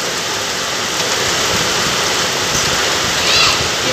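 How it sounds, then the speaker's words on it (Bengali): Heavy rain pours onto a tin roof in a loud, dense, unbroken hiss that stays steady throughout. "দেখো কিরম ঝমঝমিয়ে বৃষ্টি নেমে গেছে"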